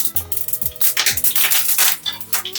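Mustard seeds and chillies spluttering in hot oil while tempering for an Onam kootucurry, with a dense, crackling burst of sharp pops close by and no talk.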